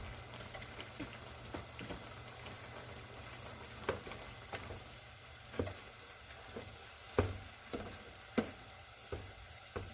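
Hamburger and turkey meat sizzles and fries steadily in a pan, with a constant crackle broken by scattered sharp pops and spatters, close and moderately loud with no talking.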